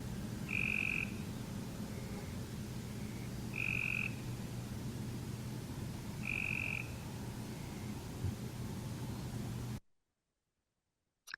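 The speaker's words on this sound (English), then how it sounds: "The Cope's gray tree frog has more of a buzzy call, and you can't really make out those individual notes." A Cope's gray tree frog repeats a buzzy, trilled call three times at even intervals of about three seconds. Each burst is short and distinct over faint background hiss, then the sound cuts to silence.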